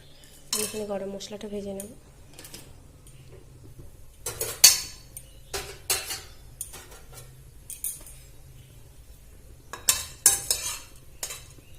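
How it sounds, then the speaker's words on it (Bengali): Whole garam masala spices frying in a hot wok for an egg and potato curry, with metal spoon scrapes and clinks against the pan in short bursts over a low frying hiss, and someone speaking briefly. "কড়াইটা গরম করে এখানে গরম মশলাটা ভেজে নেব"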